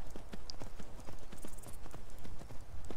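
Horse hooves clip-clopping at a steady trot on ground in Skyrim, close and rhythmic with a quick run of hoofbeats, a brief whinny-like tone early on.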